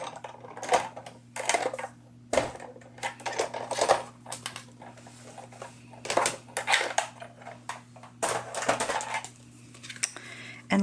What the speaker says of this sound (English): I am running it through the embossing folder.